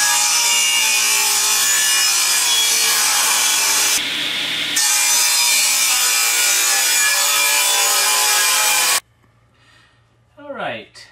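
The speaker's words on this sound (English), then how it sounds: "We're going to start cutting them in half on the table saw" A table saw cuts wooden crossbow magazine pieces in half, a loud sustained whine with a brief dip in the middle, then stops abruptly and spins down to near silence, followed by a short clatter near the end.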